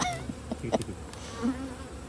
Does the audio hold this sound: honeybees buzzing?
yes